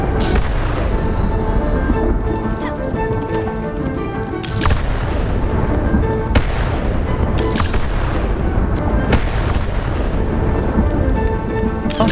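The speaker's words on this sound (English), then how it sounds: "the sound design of the thunder is fucking insane" Rolling thunder from a stormy video game scene, with several loud booming claps and crackling rumbles layered over steady rain and soft string-and-flute music.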